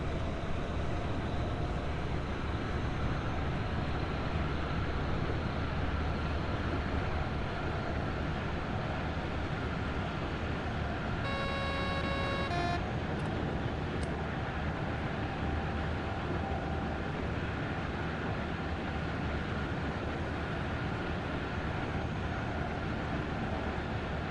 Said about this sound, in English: I love driving this train a lot of the time because I like analog gauges and good sound